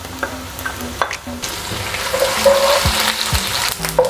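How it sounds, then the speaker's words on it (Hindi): Onions fry in hot oil with ginger-garlic paste and chicken liver pieces, a close, steady sizzle broken by scraping stirs of a spoon against the pan. "इसके बाद हम इसमें अदरक और लहसुन का पेस्ट शामिल कर देंगे"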